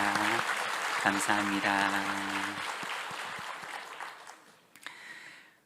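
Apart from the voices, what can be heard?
congregation applauding the church choir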